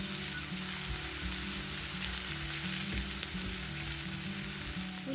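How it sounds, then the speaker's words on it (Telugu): Two medium onions, thinly sliced, frying in oil for a chicken fry, a steady close crackling sizzle with faint scattered pops, unbroken throughout and with no talk. "ఉల్లిపాయల్ని 4 నిమిషాలు బాగా వేగనివ్వండి."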